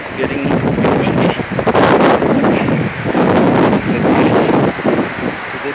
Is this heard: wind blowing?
yes